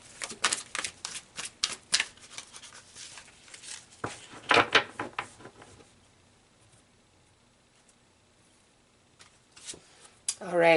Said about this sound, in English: So let's pull a couple of cards here.